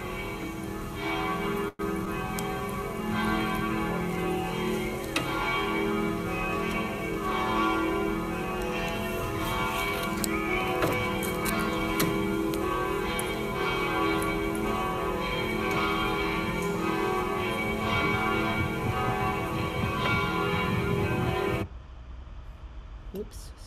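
Church bells ring in a field recording made at Easter, a dense, sustained wash of overlapping peals with resonant tones carrying steadily for about twenty seconds before cutting off to quiet.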